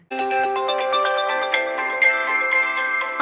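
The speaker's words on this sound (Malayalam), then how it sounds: "ദാ ഫോൺ അടിക്കുന്നു" A phone ringtone plays a bright, repeating electronic melody for about three seconds, clear and steady with no voices over it.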